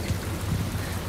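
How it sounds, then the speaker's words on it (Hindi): Heavy rain falling steadily outdoors, a dense continuous patter with a low rumbling undertone, fairly close and alone without voices. "बारिश थोड़ी सी हो गई है तेज़"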